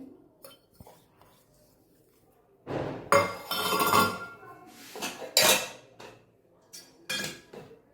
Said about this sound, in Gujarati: મિક્સર જારમાં આપણે પુદીનો, લીલી મરચી, કોથમીર એ એડ કરીશું.